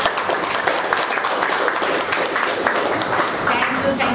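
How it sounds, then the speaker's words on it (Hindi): Audience applause welcoming people at a business leaders training session: a dense, steady wash of clapping from a sizeable crowd with voices mixed in, holding at an even level throughout. "तरफ से तालियों से स्वागत करते हैं।"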